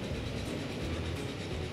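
Steam-era train rumbling past in the Transport Fever video game, a steady dense roar of rolling wheels and engine noise holding constant for under two seconds with no voices.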